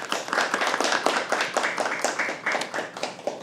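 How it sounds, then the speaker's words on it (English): An audience at a poetry open mic applauds, a short run of moderately quiet clapping with uneven rhythm, the claps sounding fairly close and dense. "Can we please have a round of applause for all of us?"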